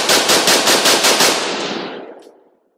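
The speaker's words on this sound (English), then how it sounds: "So let's go ahead and shoot it, see if it functions again." An AR-15 rifle fitted with a translucent magazine fires a quick burst of about eight sharp, loud shots in rapid rhythm, followed by a long fading echo outdoors.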